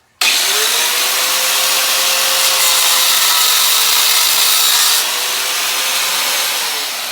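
A power saw bites into the steel shell of an AC compressor, cutting around the head in one continuous loud grinding, rasping pass for several seconds before easing off slightly near the end.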